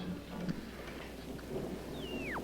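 A thunderstorm with steady rain hiss and low rumbling thunder throughout, plus a sweeping descending whistle-like tone near the end, all fairly faint and continuous with no talk.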